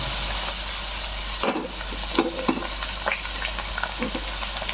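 Potatoes and jackfruit seeds fry in a pan with a steady, close sizzle, broken by a few louder clatters and scrapes of stirring.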